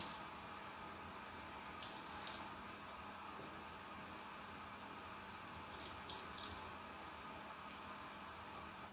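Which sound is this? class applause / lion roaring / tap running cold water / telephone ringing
tap running cold water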